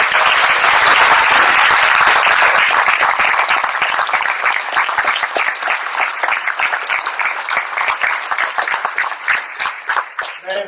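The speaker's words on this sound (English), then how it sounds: "Let's give these soldiers a round of applause." A large audience claps steadily for soldiers at a Minnesota National Guard signing ceremony, a loud sustained wash of applause that gradually thins into scattered individual claps toward the end.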